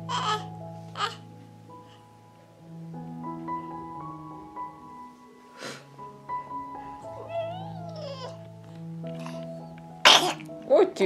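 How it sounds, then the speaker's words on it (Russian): A baby sneezes loudly and close, a couple of sharp bursts near the end, after a stretch of soft babbling and an adult's sing-song talking with quiet background music. "Господи, как мы чихнули."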